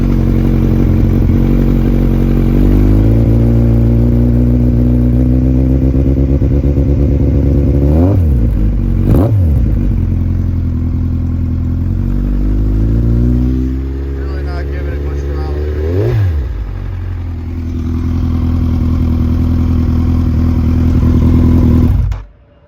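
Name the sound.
Kawasaki Z1000/Ninja1000 motorcycle with full headers revving at idle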